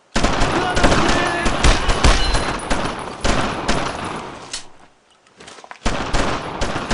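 Sustained gunfire from a World War II shooter game, Brothers in Arms: Road to Hill 30, in a fight at German barracks: dense machine-gun bursts and rifle shots rattle loudly and almost continuously, with a brief lull before the firing resumes.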